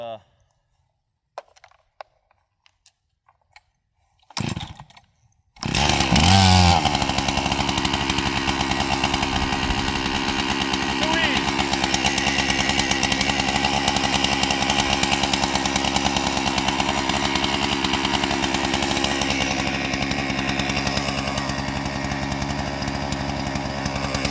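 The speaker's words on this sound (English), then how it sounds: "let the saw warm up a little bit" A chainsaw runs loud and steady at wide-open throttle with the choke on while warming up, after a few clicks and a pull start. It is a constant buzzing engine roar that lasts about twenty seconds.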